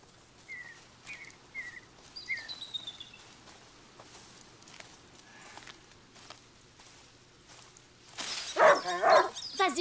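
In A Plague Tale: Innocence, set on an autumn day in Guyenne, scattered bird chirps sound over a quiet outdoor backdrop before a dog erupts into a short burst of loud, close barking near the end.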